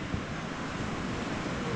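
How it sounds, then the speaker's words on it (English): Sea waves at the beach in Paguera, a continuous broadband wash of surf mixed with wind noise on the microphone, steady and moderately quiet with no voices. "few waves here, but no surfers out"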